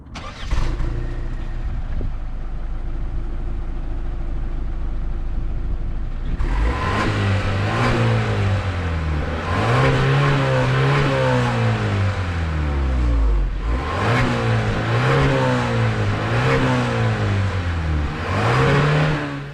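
A 2022 Genesis GV80's 2.5-liter turbocharged inline four-cylinder engine starts up, then revs repeatedly, climbing and falling in pitch with a throaty roar between brief settles to idle.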